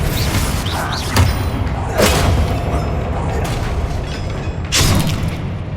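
Spell blasts cast in Hogwarts Legacy, a series of booming thuds and crashes, loud and close, with three strong bursts spaced apart over a dense game soundscape.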